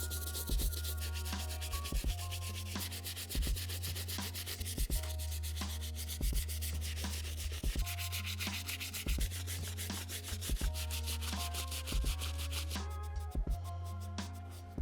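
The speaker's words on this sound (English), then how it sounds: "we're gonna go ahead and tackle this midsole with our medium bristle brush. We're just gonna pretty much let the brush do the work" A medium bristle brush with cleaning solution scrubs the midsole of an Air Jordan 5 "Metallic" sneaker, giving close, steady rasping strokes in a regular back-and-forth rhythm that goes on throughout, with no talking.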